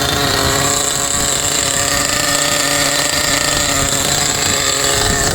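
Nitro-style RC car engine warming up after a first pull, a loud, buzzing high-revving idle with a steady whine and rattle, close and continuous with no talking.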